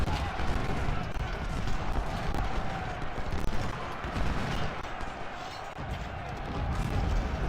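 In the Ultimate General: Civil War game, a Gaines' Mill battle rages with dense, continuous rumbling artillery booms and crackling musket volleys, a loud and unbroken barrage without clear gaps.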